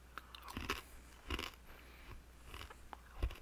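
Crisp crunching bites of a snack being chewed close up, several sharp crackly bursts spaced irregularly with quiet chewing between them.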